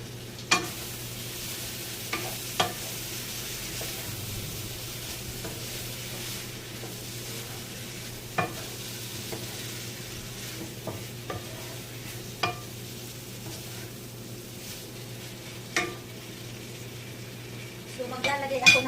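Adobo tofu with eggplant stirred in a frying pan, a soft steady sizzle underneath occasional sharp scrapes and taps of a utensil against the pan, close and intermittent.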